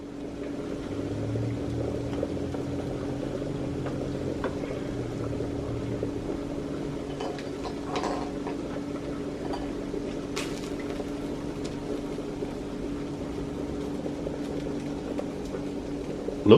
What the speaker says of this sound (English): we're going to add the eggs now to the boiling water.